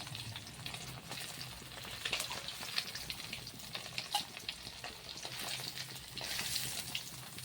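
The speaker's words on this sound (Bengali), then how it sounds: "ইলিশ মাছ দই দিয়ে রান্না করার জন্য খুব বেশি ভাজতে লাগে না, এরকম ভাজা হলেই হবে।" Hilsa fish pieces lightly frying in oil for a yogurt hilsa curry, giving a dense, continuous crackling sizzle with occasional sharper pops and stirring sounds, close and fairly loud, with no voices.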